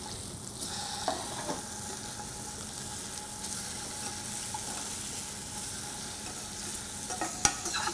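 A halibut fillet frying over medium-low heat in a pan, with a steady soft sizzle, occasional spatula taps and one sharp click near the end, quiet and continuous with no speech.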